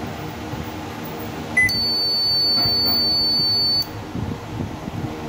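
A single electronic beep from an inverter microwave oven starting, followed by a steady high-pitched tone that holds for about two seconds and then cuts off, over low background hum.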